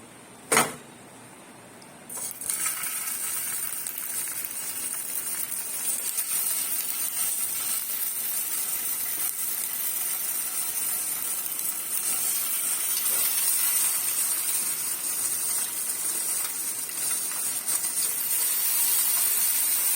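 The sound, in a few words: sausages frying in a little oil in a pan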